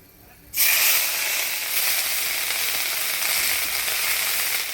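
Nigella seeds and a paste of onion, garlic and ginger hit hot oil in a village-style Bengali kitchen, bursting into a sudden loud, steady sizzle and hiss after a brief quiet moment.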